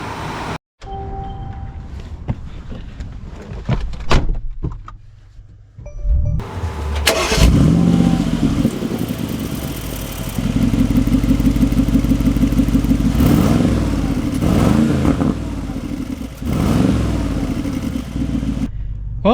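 An older pre-refresh Mercedes G-Wagon starts up with a cranking catch, settles into a loud, close idle, then revs and pulls away with rising and falling engine tones, a door shutting briefly early on.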